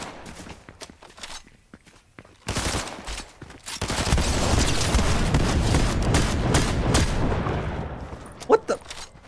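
Machine gun fire in the Fortnite video game: bursts of rapid shots swell into a sustained, loud fusillade lasting several seconds, with scattered footstep-like taps and game sounds before and after.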